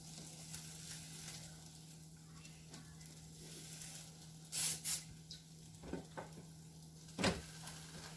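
A sprayed crunch wrap sizzling on a hot grill, a quiet steady hiss with a low hum underneath, broken by a few louder handling knocks and scrapes.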